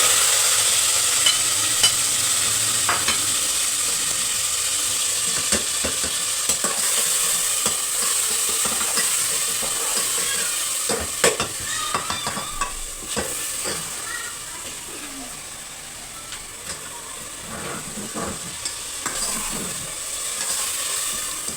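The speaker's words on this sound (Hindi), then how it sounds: "और इसको साथ मम्मा भून रही हैं।" Masala frying and being stirred in a pan during home cooking of aloo palak, a steady broadband sizzle with frequent sharp scrapes and clicks of a spoon against the pan, fairly loud and close, with no talking.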